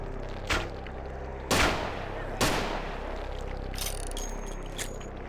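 Gunfire in the PC game Vampire: The Masquerade – Bloodlines, played with the Final Nights: Reborn mod, with three sharp, loud shots spaced about a second apart over a steady low game ambience.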